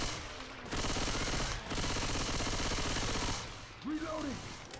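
Shotgun reload in Left 4 Dead 2, a busy run of rapid mechanical clicks and clacks with brief pauses between bursts, moderately loud amid game noise.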